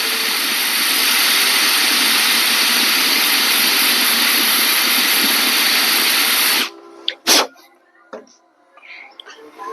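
A power tool whines and hisses steadily while cleaning out a drilled chain link plate for a Yamaha R6, loud and close, then cuts off abruptly, leaving a few short clicks and knocks in near quiet.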